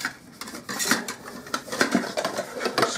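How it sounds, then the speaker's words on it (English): An all-aluminium British Army cooking pot that doubles as a frying pan, handled nearby with a steady run of light metallic clanks, scrapes and rattles, alone with no talking. "this cooking pot, which is all aluminium."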